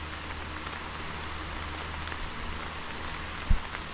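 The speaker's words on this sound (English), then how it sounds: "You can see it pouring rain up through there." Steady heavy rain from a thunderstorm hisses evenly on a surface throughout, camping in a truck bed canopy in McCarr, Kentucky, with one brief low thump near the end.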